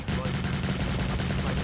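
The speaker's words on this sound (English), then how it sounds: "Look at these gunshots come out." Rapid gunfire in the Cyber Hunter video game during a tournament, a dense continuous burst of shots with heavy low thumping, loud and unbroken throughout.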